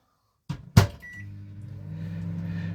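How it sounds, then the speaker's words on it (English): A microwave oven is started with a couple of door or button clicks and a short beep, then settles into a steady, close mechanical hum. "just put it in the microwave."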